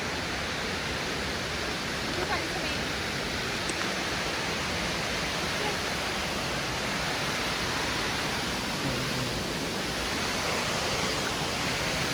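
Baker's Falls at Horton Plains pours with a continuous, even rushing roar, broad and steady for the whole stretch with no voices.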